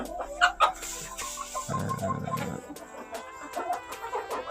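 Chickens clucking inside a coop during cleaning, with layered clucks and a few sharper calls from several birds close by, alongside scraping and shuffling noises.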